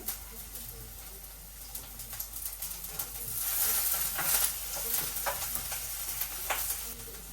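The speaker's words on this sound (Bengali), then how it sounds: "পুঁই শাকটা রান্না করি একটু কাঁঠাল বিচি দিয়ে দিলাম একটু বেগুন দিয়ে দিলাম" Malabar spinach with jackfruit seeds and eggplant fries in a pan, a soft crackling sizzle with occasional stirring scrapes that grows a little louder midway.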